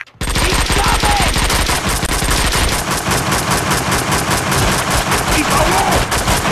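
Mobster gunfire in Max Payne 2: loud, continuous rapid-fire shots in a steady machine-gun rhythm, starting abruptly and running throughout, close and dominant.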